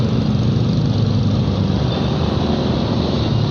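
Steady low rumble of idling engines in a traffic jam on a road in Tangerang, heard continuously at a constant level with no talk.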